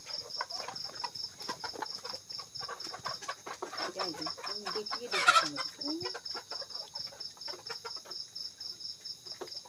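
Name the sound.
free-range chickens clucking on a farm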